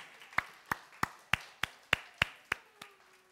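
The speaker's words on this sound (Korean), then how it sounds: "우리 하나님께 영광의 박수 올려드리겠습니다" Eight sharp, evenly spaced claps in church after a prayer, a single nearby pair of hands giving a few slow, distinct strikes before stopping.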